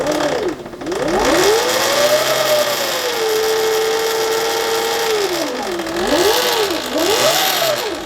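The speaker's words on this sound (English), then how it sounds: "I'm going to turn it on and just show you what this sounds like with a really tight belt." A Surron Ultra Bee electric motorbike running with an over-tight drive belt gives a loud whining drone that swoops up and down in pitch as the throttle is worked, close and with no talking.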